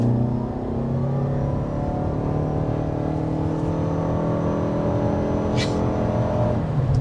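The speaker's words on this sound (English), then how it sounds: "you might have noticed as I accelerated hard there" A 2025 Hyundai Tucson hybrid compact SUV with all-wheel drive and an eCVT accelerates hard. A loud, sustained engine drone with rising harmonic tones runs throughout, with a brief whooshing burst near the end.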